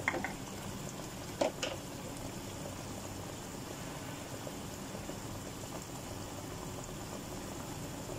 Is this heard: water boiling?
yes